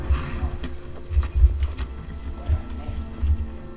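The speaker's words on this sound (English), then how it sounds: "Let me jump off my horse and go talk to him." Horse hooves thudding in a Skyrim video game as a rider dismounts, a few soft, uneven clops and thumps over low ambient game sound.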